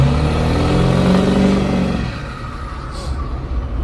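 A loud engine revs hard up close, then eases into a lower rumbling idle with a brief hiss near the end.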